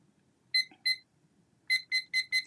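A kitchen-style countdown timer alarm goes off with sharp, high electronic beeps: a pair of short beeps, a brief pause, then four evenly spaced beeps in quick succession, clear and close over a quiet room.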